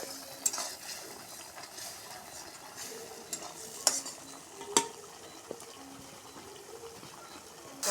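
Spice paste fried in oil in a pan for a broiler chicken skin bhuna, stirred with spatula scrapes and occasional sharp knocks over a steady, close sizzle.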